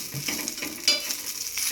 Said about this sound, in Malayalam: തേങ്ങ വറുത്ത് മൂത്ത് വന്നപ്പോൾ ചെറിയ ഉള്ളി ഇട്ട് കറിവേപ്പില ഇട്ട്